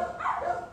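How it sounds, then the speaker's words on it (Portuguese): A dog gives a short, whiny yip or bark, brief and mid-distance, fairly faint against a quiet background with no talking over it. "talvez tenha que escutar os cachorros latindo ali"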